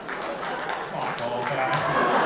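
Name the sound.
audience applause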